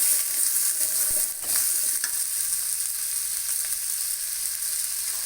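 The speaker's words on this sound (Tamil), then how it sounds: "இப்போ பூண்டு இஞ்சி வெங்காயம் போட்டு இப்போ வணக்கிறோம்" Garlic, ginger and onion frying in a pan for a country chicken curry, giving a steady close sizzle with a few soft clinks of a stirring utensil.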